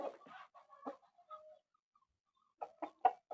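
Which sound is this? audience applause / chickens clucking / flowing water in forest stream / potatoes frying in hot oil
chickens clucking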